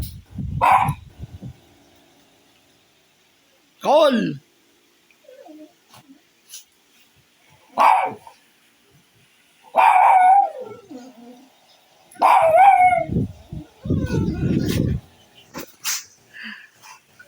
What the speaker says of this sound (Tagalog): Aba, mga alulong.